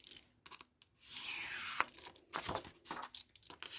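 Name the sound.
scissors cutting paper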